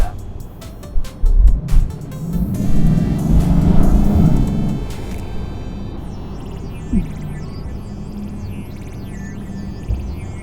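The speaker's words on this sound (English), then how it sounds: "When you compare the sound of the AMG models, especially the 63s" A Mercedes-AMG GLC63s Coupé is driven in France, its engine giving a low rumbling growl with a brief rise early on, then settling to a steady hum inside the cabin.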